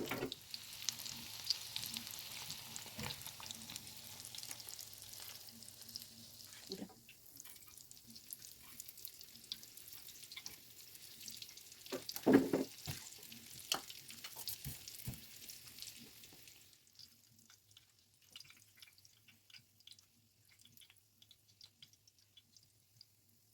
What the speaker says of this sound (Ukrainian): І так смажимо всі пампушки.